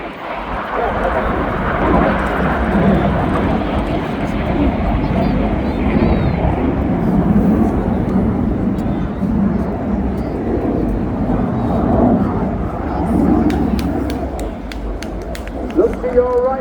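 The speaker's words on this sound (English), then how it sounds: "Each aircraft turning towards the centre of display, now turning towards each other, passing only 30 metres in the cyclone." Display jets roar past at the Swansea airshow in Wales, a broad sustained rumble that swells and fades across the crowd, while a commentator talks over the public address throughout.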